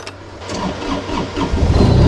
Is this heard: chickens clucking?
no